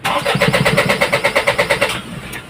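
An Isuzu 4HL1 engine with a hard-starting fault cranks on the starter for about two seconds in a fast, even, loud chugging rhythm without catching, then cuts out to quiet.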